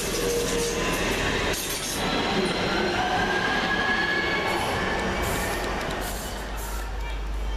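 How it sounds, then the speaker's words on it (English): A London Midland Cross City electric passenger train, a Class 323 running from Redditch to Lichfield City, rumbles through Chester Road station with steady rolling noise, clinks and faint wheel squeal, close and continuous. "Next train out, the 11:49 London Midland Cross City service from Redditch to Lichfield City"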